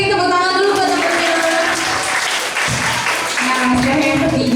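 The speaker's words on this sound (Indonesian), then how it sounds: "tepuk tangan dulu buat temennya" A group of classmates claps for a fellow student, a loud, sustained round of applause with a voice speaking over part of it.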